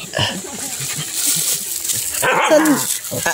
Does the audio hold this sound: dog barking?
yes